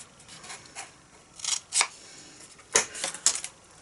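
Scissors snip around a scrap of real red card in several short, crisp cuts spaced through a quiet stretch, each a close, brief rasp.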